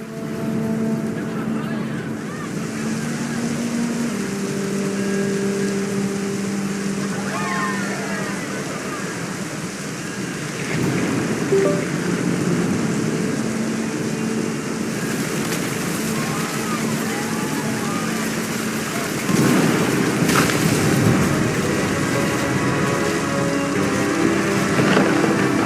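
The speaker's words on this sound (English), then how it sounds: "The thunder sounded much too close and full of angry power" Steady rain falls with rumbling thunder in the game What Remains of Edith Finch, with continuous patter broken by louder thunder swells near the middle and end, heard alone without talk.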